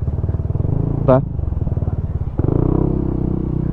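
An Aprilia SRGT 200 scooter engine fitted with a Zard exhaust runs at a steady, throbbing idle, loud and close. A brief clatter sounds partway through, then the engine note thickens slightly.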